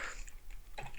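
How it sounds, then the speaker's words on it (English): Quick, light taps on a computer keyboard come in two short bursts, close and fairly quiet, while C# code is being entered. "I hate typing this, honestly, console write line so many times."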